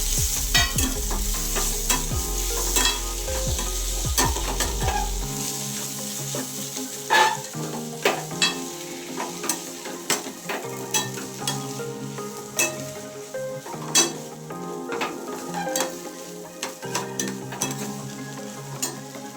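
Maggi noodles sizzle and fry in a pan while a utensil stirs them, giving steady close frying hiss broken by frequent scraping and knocking strokes against the pan, with no voices.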